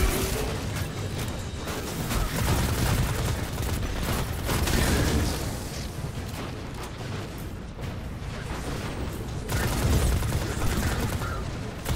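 Shotgun blasts and gunfire from a Destiny 2 Witch Queen campaign fight ring out in repeated heavy bursts with mechanical clatter, loud and close, over a busy combat din and no talking.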